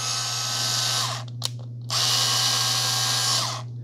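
A SKIL 4V Pivot Grip cordless screwdriver whirs in two close, steady motor runs. Between them comes a short pause with a brief click.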